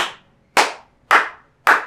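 Four sharp, close hand claps ring out at an even, unhurried pace in an otherwise quiet space.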